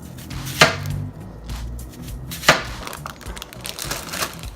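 A knife crushing garlic on a board while preparing picanha with onions, rosemary and thyme, two sharp close thuds with quieter scraping and knocking between them, no speech.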